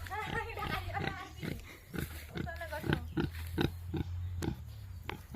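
A pig grunts and snorts in short repeated bursts at close range in a rural yard, with people talking over and between the grunts.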